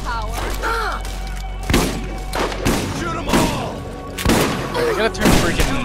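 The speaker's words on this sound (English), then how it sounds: "I got a shotgun." Shotgun blasts in Borderlands boom out as a few heavy, separated shots amid a busy game mix, loud and close, while people talk over the action.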